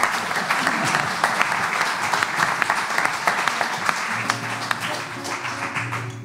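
An audience at an evening health café event in Venray claps steadily for several seconds, a dense wash of hand claps that starts to thin out near the end as a low hum comes in.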